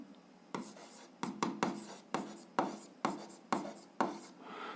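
Handwriting on paper during an algebra lesson, a series of about eight short scratchy pen strokes in an irregular rhythm, close and quiet.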